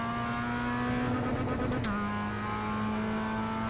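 A race car engine in a VR sim racing game drones at high revs, a loud continuous tonal whine that dips in pitch as a gear shifts midway, then holds steady without any talk.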